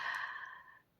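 A person gives a single short, breathy yawn lasting about a second, close and soft, fading out at the end.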